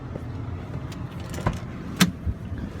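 Someone gets into a car at a parking area: faint rustling and a few soft thumps and clicks of the door and seat, with quiet outdoor background.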